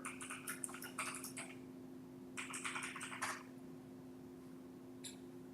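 Keystrokes on a computer keyboard come in two quick clattering bursts and one brief tap, fairly close but quiet. A steady electrical hum runs beneath them and no one speaks.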